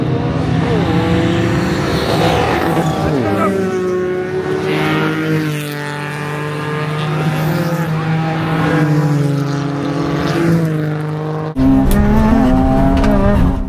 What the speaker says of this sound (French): Après le redépart, les voitures sont concentrées]] et Clément se retrouve directement